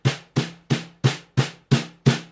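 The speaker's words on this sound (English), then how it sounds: "another one that we look at is the double stroke roll, and that one sounds like this." A double stroke roll is played slowly on a drum as seven evenly spaced, punchy strokes, each with a quick decay, close and clear with no voices.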